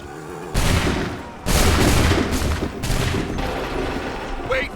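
Musket volleys from massed soldiers ring out in Assassin's Creed III during the Lexington and Concord battle: several loud, crackling broadside bursts, each trailing off into scattered shots, with shouted voices in the background.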